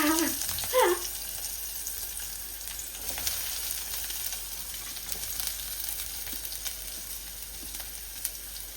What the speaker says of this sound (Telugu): ఆనియన్ వేస్తున్నా